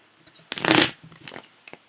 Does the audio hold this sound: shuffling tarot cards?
yes